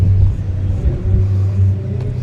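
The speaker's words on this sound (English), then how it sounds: "We have Ryan's little Chevy Cruze here." A small Chevy Cruze at a car show runs with a loud, close, low engine rumble that holds steady for a couple of seconds with a brief dip in the middle.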